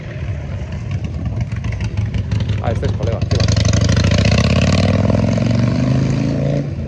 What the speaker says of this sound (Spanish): mira, una moto. Estas que, además de las que hacen ruido